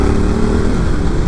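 Loud motorcycle engine drone heard up close from the rider's position while braking into a downhill canyon corner, steady and unbroken with wind rush and no speech.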